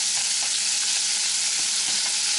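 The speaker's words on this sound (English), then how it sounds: "then we'll get back to this bacon. I'm going to get that good and rendered down." Bacon pieces sizzle and render in a pan for a burger topping, a steady dense crackling hiss with faint intermittent scrapes of stirring, close and fairly loud with no voices.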